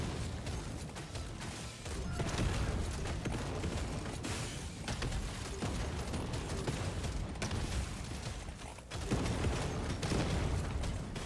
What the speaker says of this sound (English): even though we're doing huge explosions everywhere